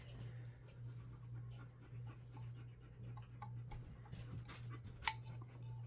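A Doberman pants in quick, steady breaths close by, quiet and continuous, with a few small ticks and clicks in the background.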